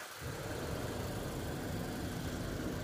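A 2020 Mazda 3 hatchback engine runs steadily at idle, a continuous low hum and rumble with no change in pitch and no speech over it.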